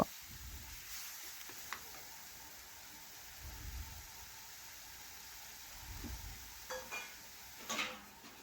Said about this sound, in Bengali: এখন ভালোভাবে একটু নাড়াচাড়া করে হলুদ ও লঙ্কা গুঁড়া মিশিয়ে নেব